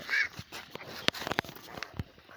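A few faint, scattered duck quacks, fairly quiet, mixed with small clicks and handling noises, as a duck with a broken leg is handled.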